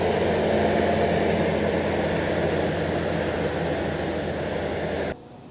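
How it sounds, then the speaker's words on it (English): A John Deere 9900i forage harvester chopping maize in a field makes a loud, steady, close roar that drones without break, then cuts off abruptly near the end. "I love the sound of maize being cut"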